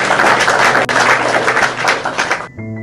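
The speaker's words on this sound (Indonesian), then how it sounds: "tepuk tangan Tuhan Yesus" A church congregation claps for Jesus during a service, giving dense, loud applause that carries on steadily and then stops, leaving sustained organ or keyboard tones.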